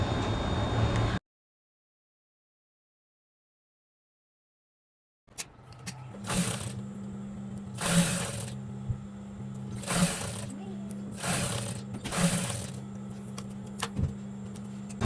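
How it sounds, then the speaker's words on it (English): Sewing machine stitching around the neckline of a double-layer Egyptian hijab, running in several short bursts of steady mechanical whirring with brief stops between, after a stretch of silence. "All you have to do is sew the neckline round."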